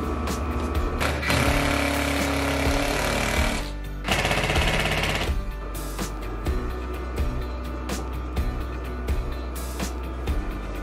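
A power drill drives drywall screws through plywood into a garage workbench during houseboat hull framing, with two long loud buzzing runs followed by shorter whirring bursts and clicks.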